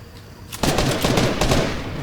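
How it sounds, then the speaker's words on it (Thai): Rapid automatic gunfire in the Fortnite video game, bursting in suddenly after a quiet moment and continuing as a dense, loud rattle of shots with no talk over it. "คนยิงกัน"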